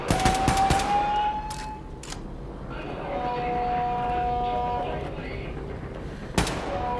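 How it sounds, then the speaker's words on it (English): Gunfire in the shooter game Wolfenstein II, a rapid burst of automatic shots at the start, then scattered single cracks and a final loud report, amid tonal game music and ambience. "This is just another reason to start shooting people."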